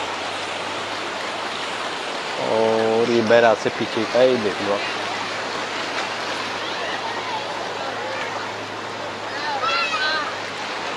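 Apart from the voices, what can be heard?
Ganges river water flowing near Triveni Ghat, Rishikesh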